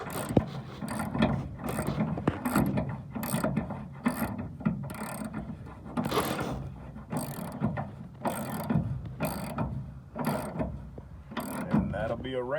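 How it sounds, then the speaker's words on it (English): Ratchet wrench tightening shackle bolts and nuts on a 1992 GMC Sierra 1500 pickup while fitting 2-inch drop shackles: repeated close clicking ratchet strokes in steady bursts, with quiet talk around them. "And then we're going to tighten both of these bolts up,"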